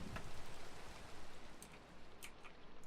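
Steady rain falling in the video game Minecraft, a dense, even hiss with a soft patter of drops that continues throughout, with a few faint clicks and no speech.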